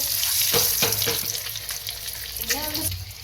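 An egg fries in hot oil in a pan, giving a loud, steady sizzle throughout with a few stirring or scraping knocks.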